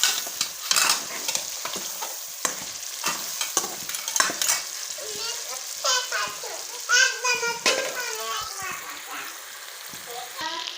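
Fish in masala frying in a frying pan for a fish curry, a soft steady sizzle with gentle stirring and spoon scrapes, while a child chatters and other voices talk over it.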